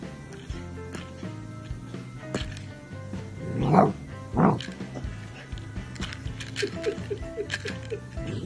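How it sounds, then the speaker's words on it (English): A young puppy lets out its first barks: two short, high yips close together midway through, rising over a quiet background hum. "Turn up the volume to hear Bourben's first bark."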